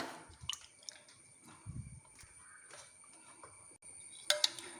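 A spoon stirs half a tablespoon of instant yeast into room-temperature milk, making faint, soft liquid squishes, drips and light clinks close by in a quiet kitchen.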